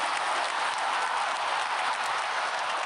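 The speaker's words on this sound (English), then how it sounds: "Let's get a little round of applause there." Steady applause, a dense wash of clapping that holds evenly for about three seconds during a live online fitness show, with no voices over it.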